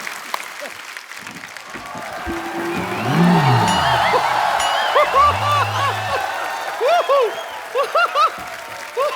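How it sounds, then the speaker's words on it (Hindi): A TV comedy show studio audience claps loudly with scattered cheers and voices rising over the steady applause, which carries on throughout. "जोरदार तालियां एक बार बाबा जी के लिए"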